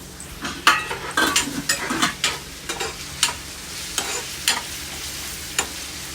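Food fries in a pan while a utensil stirs it, giving repeated scraping strokes over a steady close sizzle.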